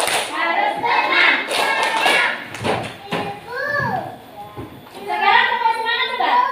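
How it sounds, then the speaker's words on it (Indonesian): Children in a classroom do a rhythmic clapping chant with a teacher, sung voices over clustered hand claps, loud and close, with spoken lines between the chant phrases. "Nah, kita tepuk dulu ya, biar nggak ngantuk ya."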